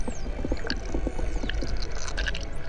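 A pod of dolphins off the Florida Keys vocalizes underwater, with rapid clicks and rising, sweeping whistles over a steady low ocean rumble, several animals calling near and far.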